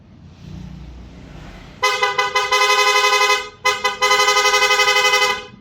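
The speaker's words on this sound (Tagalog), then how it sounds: "Then, PIA horn with combo light." A PIA horn fitted with a combo light on a motorcycle blares loud and near, in a few short toots followed by two long sustained honks with a brief gap between them.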